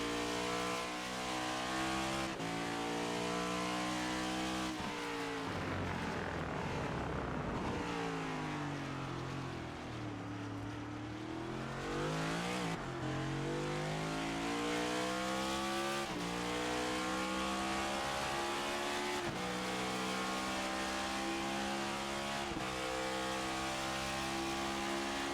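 A NASCAR race car howls around Circuit of the Americas in the iRacing video game, its engine climbing through gears, dropping and dipping for a slow corner before revving back up, loud and continuous.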